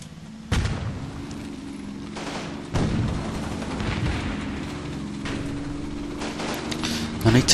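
Mortars fire in the wargame Combat Mission: a couple of sharp thuds punch out of a constant low battlefield rumble, followed by fainter scattered pops and crackles.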